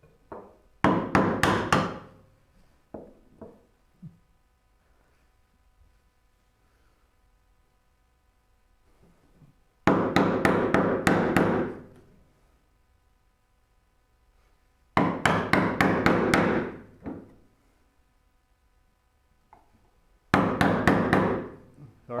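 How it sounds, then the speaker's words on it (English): A hammer driving a chisel to chunk out wood for a Moxon vise, four bursts of rapid, sharp, loud blows, each lasting about two seconds, separated by long quiet gaps. "It's going to be hammer heavy today."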